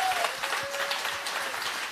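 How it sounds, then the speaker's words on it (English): Audience applause for the panelists at a MozFest House Amsterdam conference dialogue, a dense, steady clatter of many hands clapping that fills the short stretch at an even level with no talk over it. "I'm going to ask you to do a few rounds of applause, first of all, for our brilliant panelists."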